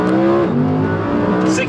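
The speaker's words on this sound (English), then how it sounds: "So 0 to 60 test." A 2019 Audi R8 V10 Performance accelerates hard from a standstill, its engine roaring loud and close with rising pitch and a gear change, while a person talks over it.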